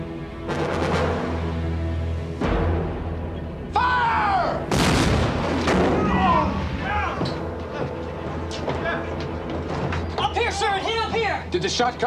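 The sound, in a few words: enemy cannon shot striking the ironclad's iron hull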